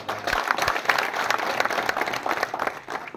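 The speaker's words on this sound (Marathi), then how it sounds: "तुमच्या टाळ्या" Audience applause at a felicitation rally, steady dense clapping from a crowd throughout, loud and close with some murmuring underneath.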